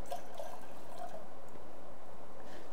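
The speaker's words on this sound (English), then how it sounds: "and discard water." Warm water poured out of a tea ceremony bowl after warming it, a soft, faint trickle and splash lasting a couple of seconds with no talking.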